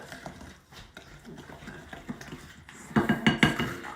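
A spoon scrapes and clinks around a pot while butter and brown sugar are stirred, soft scraping at first, then louder metallic clatters near the end.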